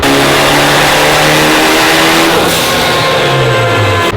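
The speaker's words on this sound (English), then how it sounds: "this right here should be the first clean pull on the Evo 9" A tuned Mitsubishi Evo 9 engine screams through a sustained full-throttle pull on a dyno, loud and close, its pitch climbing steadily before dropping off at the end.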